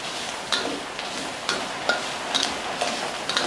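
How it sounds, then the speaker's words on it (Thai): Pork stir-frying with garlic in its own rendered fat, with a steady low sizzle and recurring scrapes and clicks of a utensil stirring against the pan, close and alone. "คั่วกับหมูนี่เลยหมูน้ำมันมันก็ออกมาจากในตัวหมูแล้ว"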